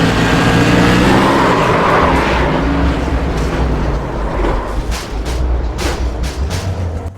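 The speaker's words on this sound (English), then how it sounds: "The sound of him riding that fence." A Whelen Tour Modified race car in the iRacing sim at North Wilkesboro grinds along the fence, its loud engine roar mixing with continuous scraping and screeching that turns into sharp, rattling impacts near the end.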